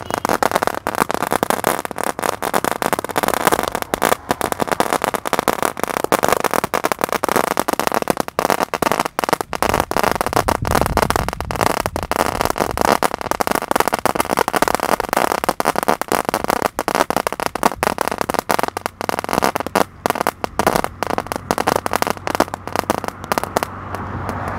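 Sivakasi firecrackers crackle and pop in a dense, continuous rapid-fire string, loud and close, running on without a break.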